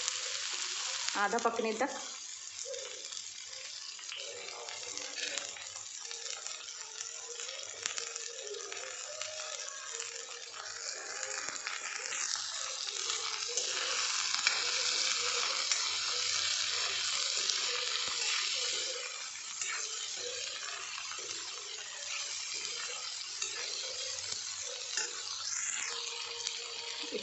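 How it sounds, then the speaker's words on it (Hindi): Ivy gourd (kunduru) frying in hot refined oil, a steady broad sizzle that runs throughout with brief stirring scrapes, while someone speaks a few words over it. "अब हम इसमें ये कुंदरू डाल देंगे। इनको हमें फ्राई करना है"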